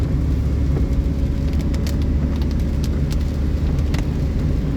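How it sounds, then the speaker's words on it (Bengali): A car drives on a road between Rangpur and Kaunia in a heavy downpour, heard from inside as a constant deep engine and road rumble with a faint hiss of rain and no break. "আমাদের গাড়ির ড্রাইভ করতেছে সাইবুল ভাই"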